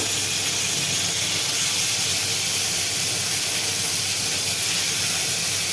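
Pieces of small snakehead fish fry in hot oil with a loud, continuous, even sizzle and hiss that does not break, and no voices are heard.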